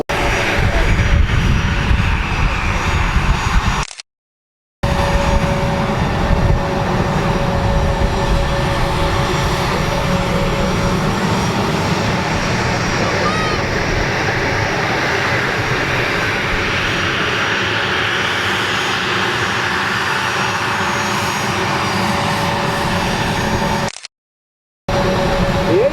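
A jet built for close air support, with rear-mounted engines, roars at an Arizona air show. The loud, sustained engine noise shifts slowly in tone and is broken by two brief dropouts.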